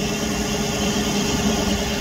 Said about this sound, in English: I'm staying behind the tractor because the tractor's blocking the wind right now.